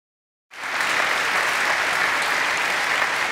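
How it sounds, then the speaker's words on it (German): Studio audience at a 2013 Audi Star Talk event bursting into applause after a brief silence, a steady, full wash of clapping that holds at even loudness to the end. "Sicher auch Applaus für die tolle Leistung der Mannschaft."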